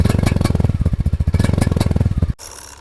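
A Yamaha Aerox 155 scooter engine revs under throttle with a loud, close, pulsing mechanical chug for a little over two seconds, then cuts off abruptly to a quiet idle hum.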